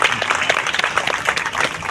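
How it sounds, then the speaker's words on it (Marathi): Applause for the Indian Dental Association at an NSS camp gathering, a steady, fairly loud wash of many hands clapping together, sustained throughout without pause. "टाळ्या."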